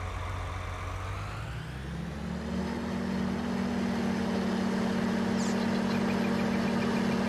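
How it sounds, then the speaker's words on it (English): A tractor engine idles in Farming Simulator 19, a steady low drone that rises slightly in pitch and then holds constant, heard alone at moderate level. "Tractor was already running."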